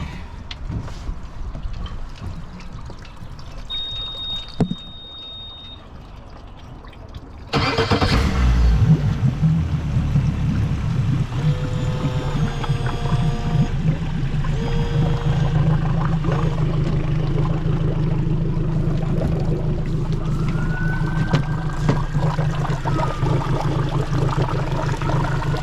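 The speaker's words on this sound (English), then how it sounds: "And we turn the engine on." An outboard boat engine starts abruptly after a quiet stretch of background noise, then runs at a steady idle with a busy low rumble and some watery splashing, close by.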